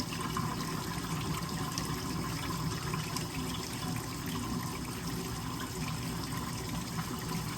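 Hot water runs from a tap to fill a basin on wash day, a steady, even rushing and splashing that holds unbroken throughout with no voices over it.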